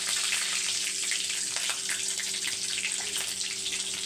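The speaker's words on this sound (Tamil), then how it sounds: "சோம்பு சீரகம் நல்லா பொரியட்டும்" Mustard, fennel and cumin seeds fry in hot oil with a continuous close hissing crackle, steady and fairly loud throughout.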